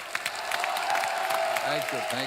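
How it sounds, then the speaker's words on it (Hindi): A comedy show audience breaks into loud, dense applause with some cheering, sustained for a couple of seconds before a voice starts speaking over it. "जोरदार ताली"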